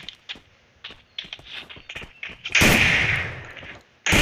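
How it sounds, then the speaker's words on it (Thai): Gunfire in the Free Fire battle royale game begins as scattered soft pops and footstep-like taps, then a loud close burst of shots hits near the end and a second burst starts just after it. "ใครยิง ใครยิง"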